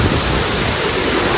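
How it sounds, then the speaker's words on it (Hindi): A sudden heavy downpour at an old family house pours down as a loud, dense, unbroken hiss of rain, steady throughout with no voices. "ओ भाई बहुत गंदी बारिश आ गई एकदम से"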